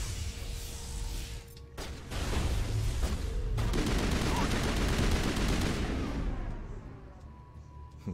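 Sustained assault rifle fire in the Mass Effect video game, a dense burst of rapid shots after a brief pause, loud and continuous with game noise behind.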